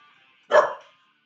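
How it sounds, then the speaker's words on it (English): A single sharp bark from a pet dog outdoors near a tree, loud and close, standing alone against near silence. "Here's my dog."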